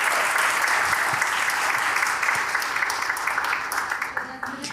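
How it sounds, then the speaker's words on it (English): An audience at an international education panel discussion applauds the panelists, producing dense, sustained clapping that stays steady and full before tapering slightly toward the end. "please give a round of applause to all of the panelists today"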